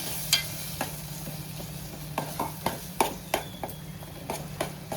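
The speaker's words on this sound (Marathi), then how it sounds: "छान असे चणे परतून घ्यायचे आपल्याला।" Boiled chickpeas being sautéed in a masala, repeated sharp spoon taps and scrapes against the pan over a quiet low sizzle, close and unhurried, no speech.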